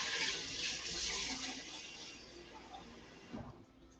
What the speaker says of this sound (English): And just give this a little rinse.